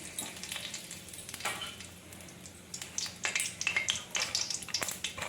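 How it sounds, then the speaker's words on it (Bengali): Two bay leaves and whole spices crackle and sizzle in hot oil in a wok while cooking vegetarian Kashmiri aloo dum, a steady close frying hiss with brief stirring clinks. "2টো তেজপাতা ফোড়ন দিচ্ছি।"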